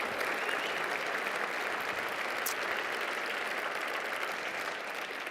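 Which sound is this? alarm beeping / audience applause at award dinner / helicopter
audience applause at award dinner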